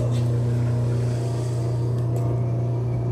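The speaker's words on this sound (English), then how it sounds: "we're going to send this elevator up" A hydraulic elevator valve simulator running as it sends the elevator up, a steady loud motor and pump hum with a constant low tone and no pauses.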